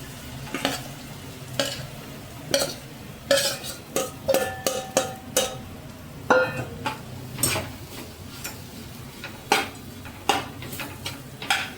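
Crumbled millet rotla is stirred and tossed in a hot pan with garlic seasoning, a low sizzle under rhythmic scraping and clinking spatula strokes against the metal, close and steady.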